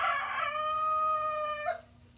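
A rooster crows once among a backyard flock of chickens, a clear, drawn-out harmonic call lasting over a second and rising sharply at the end, heard close over quiet farmyard background.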